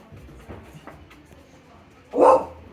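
A single sharp dog bark rings out near the end after a quiet stretch with faint background noise.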